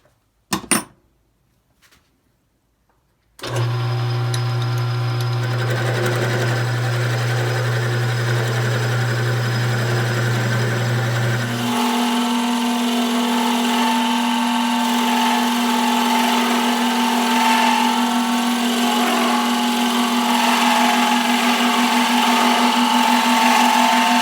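A lathe drills into a Danish style pipe from the tailstock, starting after a few faint clicks with a loud steady whine that shifts to a higher, equally steady motor tone partway through and runs on alone.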